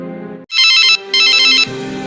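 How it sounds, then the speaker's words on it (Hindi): A phone rings in a Hindi cartoon story, two loud bursts of a bright electronic ringtone between soft background music. "फिर नेहा रवि की ये हालत देखकर शेफाली को फोन करती है।"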